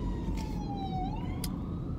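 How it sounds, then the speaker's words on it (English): A siren wails steadily, its pitch dipping and then rising again, over a constant low rumble of traffic or engine noise. "Excuse the sirens."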